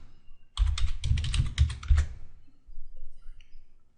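Fast typing on a computer keyboard, a quick close burst of key clicks lasting about one and a half seconds, then near silence with a faint click or two.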